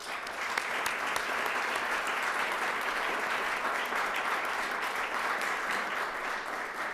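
A lecture audience applauding as Dr. Larry Arnn, president of Hillsdale College, is welcomed: dense, sustained clapping from a large crowd, even and continuous from start to finish.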